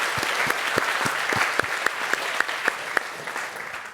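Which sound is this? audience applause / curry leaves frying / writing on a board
audience applause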